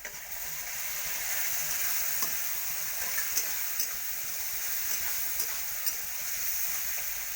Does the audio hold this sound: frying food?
yes